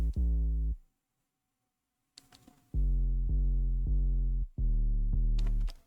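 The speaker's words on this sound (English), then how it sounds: "Then we got this shaky fucking sub bass," Electronic sub bass in a hype-drop song plays as a series of deep, heavy sustained notes, the first alone and then a run of five that come back after a gap, with light hiss and noise in between.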